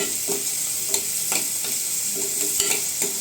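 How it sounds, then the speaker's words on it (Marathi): Onions with salt fry in a pan under a steady hiss, while a spatula scrapes and stirs in regular close strokes about every third of a second. "आपण कांदा भाजतेवेळी थोडंसं मीठ टाकायचं, जेणेकरून कांदा आपला लवकर भाजला जातो, मॉइश्चर सोडतो."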